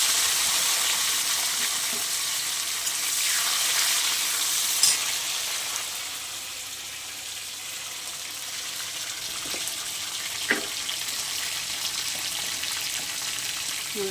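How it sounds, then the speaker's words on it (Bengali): Tomatoes tip into a pan of fried spices and hot oil, setting off a steady, close sizzle with occasional soft stirring clicks and splashy pops running throughout. "এবার আমি টমেটো দিয়ে দিলাম।"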